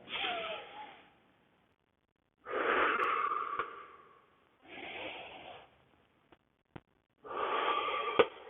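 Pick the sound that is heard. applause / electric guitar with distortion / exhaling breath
exhaling breath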